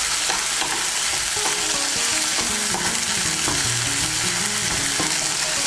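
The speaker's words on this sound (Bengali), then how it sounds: "আদা বাটা, কাঁচা লঙ্কা বাটা, রসুন বাটাটাকেও তেলের সঙ্গে ভালো করে মিশিয়ে নেব।" Ginger, green chili and garlic paste stirred through hot oil for a soybean kosha, a steady close sizzle with repeated scraping strokes of a spatula throughout, no voices.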